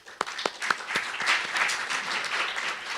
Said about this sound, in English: So please applaud him.